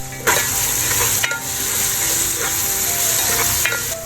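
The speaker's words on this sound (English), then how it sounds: "Time to add the vegetables, carrots, beans and spring onions." Carrots, beans and spring onions fry in a pan with ginger garlic paste and turmeric, making a loud, continuous sizzle punctuated by a few sharp stirring clanks.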